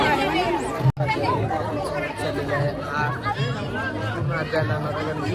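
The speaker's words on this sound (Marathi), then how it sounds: "कशी आहे गर्दी ढीग" A large crowd chatters at a village fair (yatra), a dense, close babble of many voices talking at once, continuous throughout, with a brief sharp break near the start.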